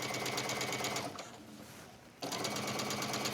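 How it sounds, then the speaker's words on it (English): A sewing machine stitches bias tape onto a wrap dress, a close, steady rapid whirring that runs at speed, drops to a brief quieter pause midway, then resumes at full pace. "I'm not stitching right there, I'm stitching on the bias."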